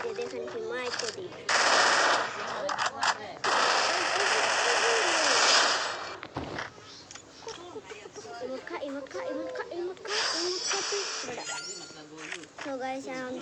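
Automatic gunfire in a shooting video game: long sustained bursts of rapid shots, loud and dense, with a voice talking over and between the bursts.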